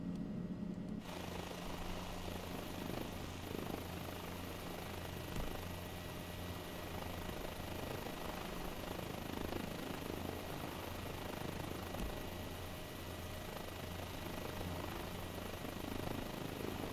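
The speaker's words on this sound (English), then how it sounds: "Why is it so difficult to land a helicopter?" Helicopter engine and rotor in a flight simulator game, a steady loud droning whir with constant low thrum running throughout, no talk.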